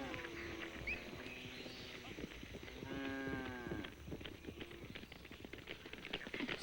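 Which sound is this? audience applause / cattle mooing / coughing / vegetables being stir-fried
cattle mooing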